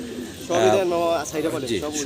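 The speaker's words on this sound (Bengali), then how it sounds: "এই চমৎকার কবুতরগুলো" Pigeons coo close by at a pigeon farm in soft, throaty, repeated calls, with a voice mingling among them.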